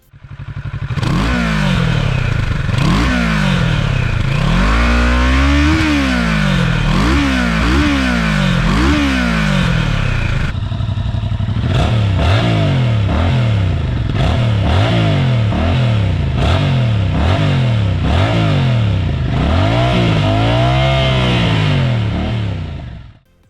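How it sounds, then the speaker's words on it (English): Stock exhausts of a Kawasaki Z650 and a Yamaha MT-07 middleweight naked motorcycles revved in turn, loud and close, with repeated rising and falling blips of the throttle over a steady idle rumble, no talking. "let's have a listen to the stock exhausts of both bikes"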